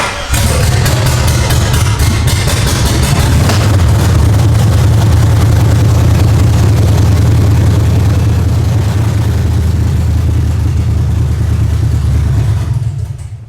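An LS swap engine in a K5 Blazer runs close by with a loud, steady low rumble and rough idle for over ten seconds, then cuts out at the end. No one speaks.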